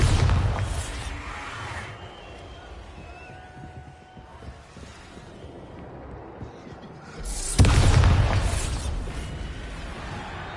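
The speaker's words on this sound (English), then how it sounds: "Bombarda." Bombarda spell explosions in Hogwarts Legacy, two loud booming blasts about six seconds apart, each with a rumbling tail, and quieter magical shimmer and effects between them.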